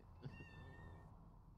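A person imitates a cat with a loud, drawn-out meow, a single wavering call rising out of a quiet, echoing room and fading after about a second.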